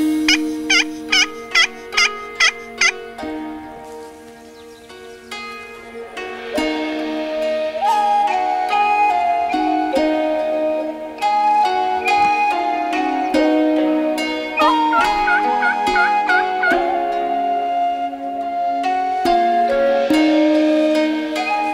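Wild turkey gobbling outdoors during an Oregon archery turkey hunt: a quick run of bright, rapid pulses opens the clip, followed by sustained, harmonically rich calling that carries on fairly loud with no talking.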